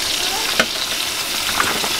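Mixed vegetables, including onion, green onion, cauliflower, beans, potato, carrot and spinach, sizzle steadily in a hot pan in a village kitchen, with a couple of soft stirring knocks.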